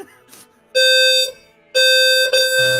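A loud, shrill electronic fire alarm blares in two long pulses of piercing tone, each lasting about half a second to a second, separated by quiet gaps, with faint voices and background sounds between them.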